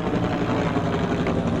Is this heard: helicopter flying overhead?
yes